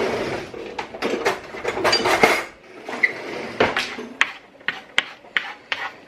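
Spaghetti tossed with garlic and olive oil in a pan, with a run of close metallic scrapes, clanks and rattles of utensils against the pan, then sparser sharp clinks toward the end, no talk.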